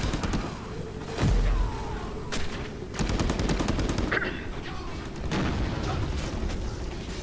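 Service rifle gunfire rattles through a Fallout: New Vegas modded battle at HELIOS ONE, with rapid bursts of sharp shots and loud impacts in a chaotic firefight.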